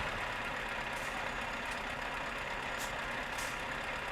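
A steady, low truck engine idle in a video game drones on without change, a constant rumbling hum with no talking.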